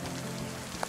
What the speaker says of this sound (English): And it started to rain again.